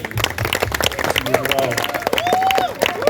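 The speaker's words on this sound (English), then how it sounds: "Round of applause." Scattered applause from a small crowd at an evening event at a beach house in Negril, Jamaica, with voices chattering and calling out over the clapping throughout.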